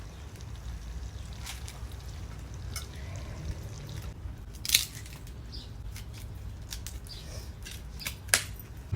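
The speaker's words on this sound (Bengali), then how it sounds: "বেগুনটা না আজকে অন্যরকম মানে কাটছি অন্যরকম করে লম্বা লম্বা করে একটু কাটছি" A knife cuts eggplant into long strips by an outdoor wood-fired stove in a garden, soft crisp slicing strokes repeating irregularly over a constant low background hum, with two brief sharper clicks.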